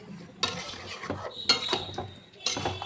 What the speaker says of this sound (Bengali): এইভাবে কিন্তু একটু নাড়াচাড়া করব